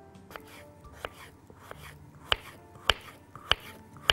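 A knife chopping avocado on a cutting board, sparse sharp knocks at first, then a steadier run of louder chops about every half second.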